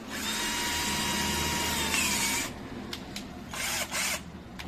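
A Total cordless drill runs at a steady whine for a couple of seconds, then winds down and gives several short revving bursts, close up with no talking.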